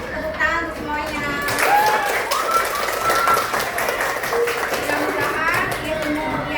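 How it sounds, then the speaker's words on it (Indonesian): Classroom of students clapping together after a lesson, a dense patter of applause mixed with children's chatter and voices throughout, fairly loud and close. "Tepuk tangan untuk semuanya."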